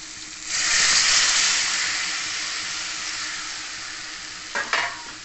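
Hot water poured over potatoes frying with spices in a pan sets off a loud rushing sizzle that slowly fades to a steady bubbling hiss, with a couple of brief clatters near the end.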